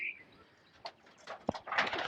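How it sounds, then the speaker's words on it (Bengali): Pigeons for sale, including Maxi and grizzle breeds, give a few soft coos and short chirps amid light rustling and faint background sound in a quiet space. "এখানে আছে বিভিন্ন রকম কবুতর"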